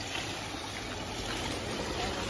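Floodwater rushes along a swollen river near a village and its fields, a steady, dense broadband wash of flowing water with no break and no voices, fairly close but at moderate level.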